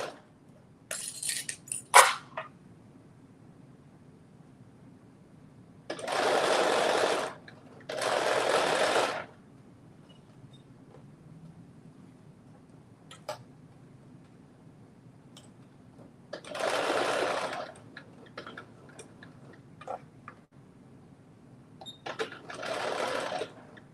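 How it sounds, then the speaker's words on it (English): A sewing machine stitches around a pocket in four separate bursts of steady mechanical whirring, each a second or two long, with quiet pauses between them and a few faint clicks. "just stitched around the pocket"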